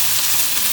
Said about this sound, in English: let me get a spoon and just stir this around